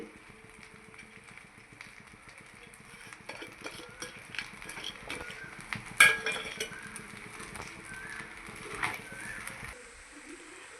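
Egg rice tossed and mixed in a pan makes soft, continuous scraping and clinking of a spoon against metal, fairly faint and close, with a brief louder clatter midway and a low background hum.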